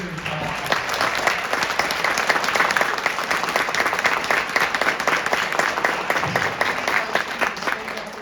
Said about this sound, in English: One more time, and I think we need to give them a real big round of applause.